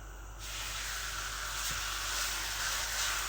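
A steady, close sizzle hisses continuously as flatbread cooks butter side down in a hot pan, with no voices.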